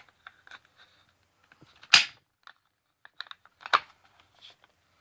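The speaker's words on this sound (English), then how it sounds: "And you just push this down until it clicks." A Chiappa M1 .22LR rifle magazine is pushed into place, giving a sharp close snap and a second clicky clatter, with faint handling taps around them.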